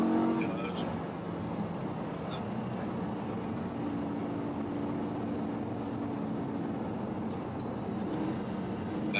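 A car revving steadily in third gear on a road stage, its engine droning continuously from inside the cabin under a co-driver's talk.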